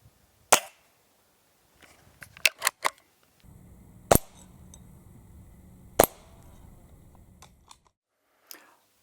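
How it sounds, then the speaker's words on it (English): A Hatsan Model 25 Supercharger .177 air pistol fires outdoors in sharp, isolated cracks, one shot at a time with quiet gaps, plus a few lighter clicks from handling between shots. "you've seen me out shooting with the gun"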